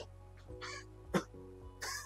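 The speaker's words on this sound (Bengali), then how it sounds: "আরো জোরে কাশ।" A person coughs forcefully during a choking first-aid demonstration, giving a few short, harsh bursts close to the microphone with brief pauses between them.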